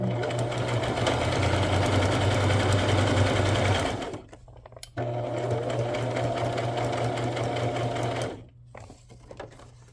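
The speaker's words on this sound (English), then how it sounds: "I'll sew around each envelope." Sewing machine stitching around envelope pockets for a tuxedo pocket project: two steady, rapid runs of close mechanical whirring and needle ticking, each about four seconds long, separated by a brief pause.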